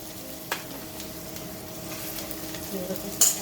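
Peanuts fry with ginger-garlic paste in a pan for dal, a soft, steady sizzle broken by a few stirring taps and one sharp clink near the end, close and moderately quiet.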